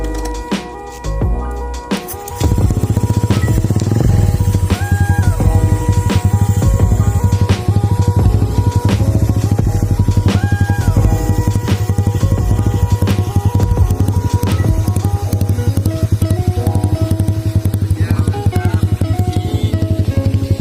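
A Honda Vario with a 180-200cc DOS racing exhaust idles close by, holding a steady, loud, low throb with no break for about eighteen seconds after a brief quieter start.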